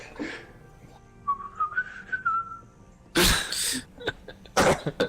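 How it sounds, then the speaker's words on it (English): A person whistles a short, wavering phrase of rising and falling notes, quiet and close, followed by loud coughing or throat-clearing bursts with no speech. "I'll whistle back at him."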